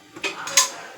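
A metal pan is set down on a kitchen stove for deep frying while a gongura prawn curry is cooked, giving two or three quick, light clinks within a second.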